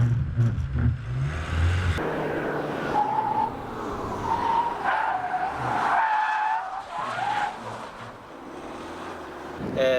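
Car tires squeal and skid in bursts over a loud engine and rushing wind, the screech rising and falling as a diesel MINI Cooper D Paceman swerves through a double lane change.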